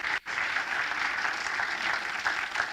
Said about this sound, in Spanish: Alguien puede darle un aplauso al Señor en esta hora